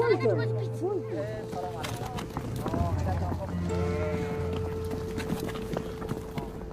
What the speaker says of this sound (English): The sheep and the yaks are just coming in for the night.